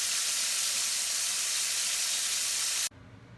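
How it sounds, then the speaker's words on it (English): Pufferfish fries in a pan of hot oil, a loud, dense, steady sizzle and hiss that holds close to the mic and then cuts off abruptly near the end, leaving a quiet background. "Hopefully you can hear me over the sizzle of the frying pan."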